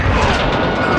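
An RPG blast in the Call of Duty Modern Warfare II game, a loud, dense, continuous roar of explosion noise filling the whole second without any clear talk.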